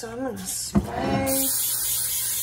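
A brief voice, then a short thump followed by a steady hiss of cooking spray onto a baking pan that continues alone.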